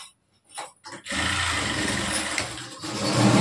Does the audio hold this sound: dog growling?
no